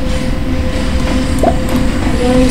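A train in the Roblox game Mad City rumbles steadily and loudly for the whole stretch as a dense, unbroken rolling noise with faint squeaks.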